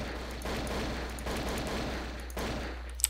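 Gunfire in a Dark RP game, a sustained rattling fusillade of rapid shots running steadily through the moment, fairly close, with one sharp crack near the end, no voices.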